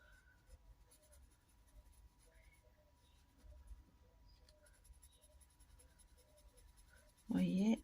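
Colored pencil drawing leaves on paper with firmer pressure, faint close scratchy strokes in short repeated bursts, then a louder rustle at the end.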